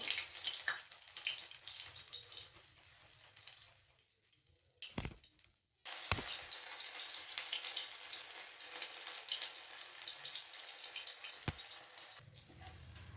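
Grated ginger frying in oil in a kadai, with dried red chillies and whole cumin, gives off a steady, moderately loud sizzling hiss. It breaks off briefly near the middle, returns with a few sharp knocks, and has no talk over it.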